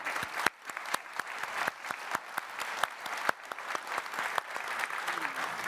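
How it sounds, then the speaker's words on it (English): An audience at a leadership forum applauds the panelists with steady, dense clapping that stays even throughout, with a few sharper individual claps standing out. "We're going to give them a round of applause"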